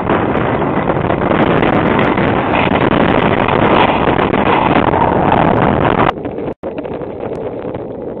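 Hurricane-force wind battering a street in Kirovo-Chepetsk, a loud, continuous roar of gusts buffeting the microphone for most of the stretch, easing and briefly cutting out near the end.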